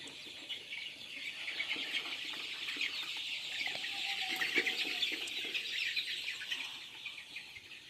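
Sonali chicken chicks, around 22 days old, in a poultry shed, a dense continuous chorus of high cheeping and clucking at moderate distance, with no voices.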